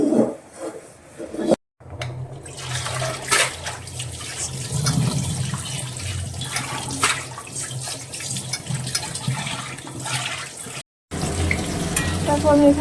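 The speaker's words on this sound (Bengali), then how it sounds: "তারপর আমি এখানে ডিম রান্না চাপিয়ে দিয়েছি" Eggs cook in a pan with steady, close sizzling and scraping stirs that continue throughout, broken by two brief silent gaps.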